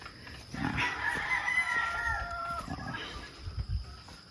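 A fighting rooster, a breeding manfighter gamecock, crows in a long drawn-out call at moderate distance, with fainter clucks and farmyard background around it.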